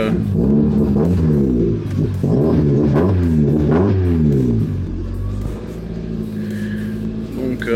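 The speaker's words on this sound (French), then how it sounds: "Donc voilà, la voiture vient de démarrer." Mazda MX-5 running on a Megasquirt engine management system just after starting, its engine revving up and down loudly and close by, settling toward a rougher idle near the end.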